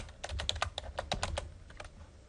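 Fast, quiet close-up typing on a computer keyboard, a run of about a dozen crisp key clicks with no talk.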